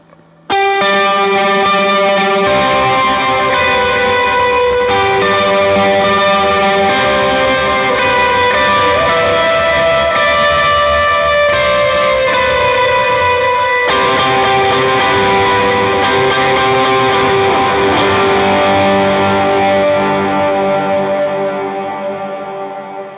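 A Les Paul electric guitar played through an effects preset, sustained chords with distortion, chorus and echo ringing out loud and continuously, swelling and holding before slowly decaying at the end.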